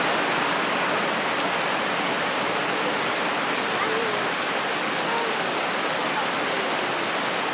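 A Konkan village under heavy monsoon rain: a continuous, loud wash of pouring water, steady from start to finish.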